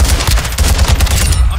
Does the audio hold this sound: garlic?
no